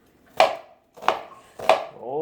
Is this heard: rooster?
no